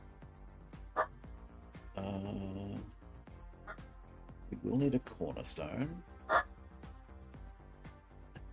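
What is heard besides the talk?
dog barking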